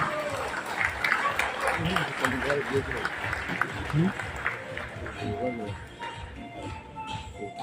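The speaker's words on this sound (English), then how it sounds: "Let's give them a round of applause again." An audience at an international skills competition claps for the Fiji delegation. The applause is moderate and continuous, and voices and crowd chatter can be heard over it.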